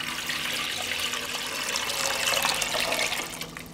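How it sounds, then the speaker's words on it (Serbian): A liter of water pours from a vessel into a cooking pot, a steady splashing stream that swells slightly and then tapers as the flow ends, with no speech. "u šerpu sipam litar vode"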